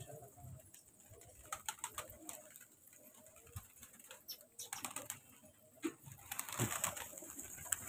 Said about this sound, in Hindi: डिफरेंट कलर के सारे कबूतर हैं जी